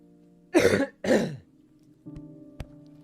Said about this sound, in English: I feel better with every productive cough